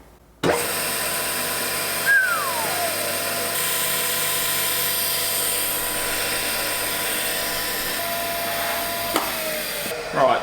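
A Wadkin LK drill press motor switches on abruptly and runs with a steady, fairly high-pitched hum and whine, a brief falling squeal near the start and another near the end, close and alone.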